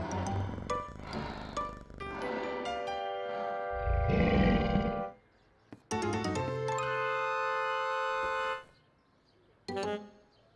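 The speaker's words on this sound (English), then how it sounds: "It's just a baby lion." A cartoon baby lion lets out a roar among bright, tinkly musical sound effects, with a loud burst midway and a sustained chiming chord after it, close and prominent.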